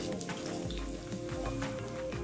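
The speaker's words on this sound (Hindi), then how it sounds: "तड़के के लिए हम 1/4 कप ऑयल डालेंगे। अब हम इसमें 5 मिर्ची और 10 करी पत्ता डालेंगे।" Chilies, curry leaves and cumin seeds crackle and sizzle steadily in a quarter cup of hot oil for a kadhi pakora tadka, a dense, close frying hiss with scattered pops and no voices.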